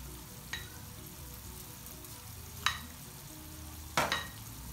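Raw turmeric and ginger stirred in a pan for a Rajasthani vegetable dish, with a faint steady sizzle under a few scattered, sharp spatula scrapes against the pan, quiet and close.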